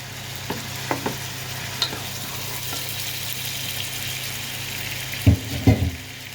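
Ginger-garlic paste fries with a little sugar in a pan, giving a steady low sizzle with a few sharp scraping and stirring knocks, louder clatter near the end.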